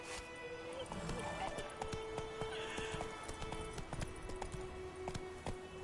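A horse gallops in The Witcher 3 video game, its hooves beating a quick, steady clip-clop close by, with a whinny and other game sounds layered over the run.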